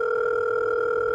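A telephone call tone signals an unreachable number, a steady two-pitch electronic tone held loud and unbroken before cutting off abruptly at the end.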